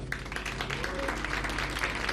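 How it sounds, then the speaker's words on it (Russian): Studio audience applauding during a televised quiz game, a dense, steady patter of many hands held at an even level throughout, with a faint voice underneath. "Вы мешаете аплодисментами."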